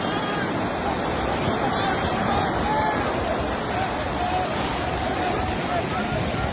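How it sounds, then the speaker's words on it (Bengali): Sea waves roar and wind blows hard at Cox's Bazar beach, a broad continuous rush of surf and gusts with faint distant voices mixed in. "এতটাই তীব্র পানির গর্জন এবং বাতাসের শব্দে"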